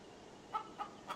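A hen kept inside a bag clucks three times in short, faint bursts spaced roughly a quarter second apart over a hushed background.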